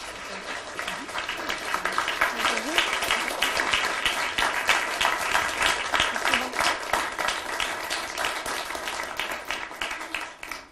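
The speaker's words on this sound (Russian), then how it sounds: "под ваши бурные аплодисменты я хочу пригласить сюда, на эту сцену, известную российскую писательницу Гузель Шамильевну Яхину" Enthusiastic audience applause welcoming Russian writer Guzel Yakhina onto the stage at a creative meeting, a steady wash of many hands clapping, moderately loud, with faint voices underneath.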